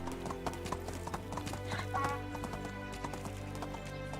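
Horse hooves in the video game Medieval Dynasty trot in a steady, even clip-clop over a low droning game backdrop, close and continuous.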